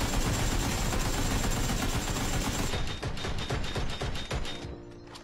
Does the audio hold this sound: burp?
no